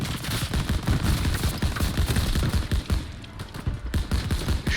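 Rapid gunfire in Call of Duty WWII during the Battle of the Bulge, dense bursts of automatic shots in quick succession, loud and close, with a brief lull near the end.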